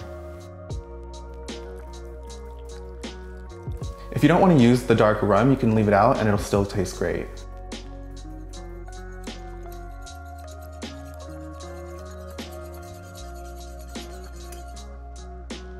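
Matcha green tea powder, dark rum and hot water are whisked together in a short burst of rapid, scratchy strokes lasting about three seconds. A voice narrates, with soft background music throughout.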